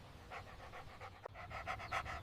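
A dog panting steadily while tugging at someone's arm, with quick rhythmic breaths that come close and clear and grow slightly heavier toward the end.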